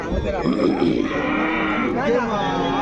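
Holstein Friesian and Jersey crossbreed cattle at a busy cattle market, with a loud, drawn-out moo close by over a murmur of crowd noise and talk.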